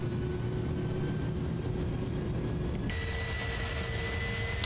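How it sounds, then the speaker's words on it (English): Landing gear extending on an iniBuilds A310 airliner in Microsoft Flight Simulator, a steady mechanical whir and hum over constant engine drone, with a shift to a higher whine partway through; no talking. "Wow, gear taking forever to come out."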